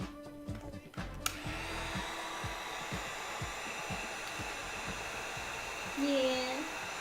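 A heat tool blows a steady, whooshing hiss of hot air while heat treating Wing Gundam Zero cosplay armor, with faint knocks underneath and a short burst of talk near the end.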